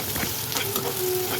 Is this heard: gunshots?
no